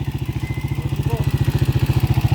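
A motorcycle engine runs loud and close, its rough, rattly idle pulsing in a fast, steady rhythm throughout, with faint clicking clatter from a transmission fitted with reversed washers.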